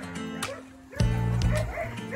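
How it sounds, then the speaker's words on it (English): Village dogs on Pico Island in the Azores bark and yip in short, agitated bursts, a few sharp barks followed by louder, closer woofs, with a voice faintly beneath. "All the dogs in the village are upset that I'm here filming here."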